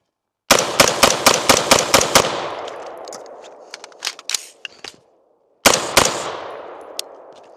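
Rapid bursts of 5.56 gunfire from a Smith and Wesson M&P 15 SBR rifle: eight quick, loud shots in a fast rhythm, a ringing tail with scattered clicks, then one more sharp shot that echoes away. No talk.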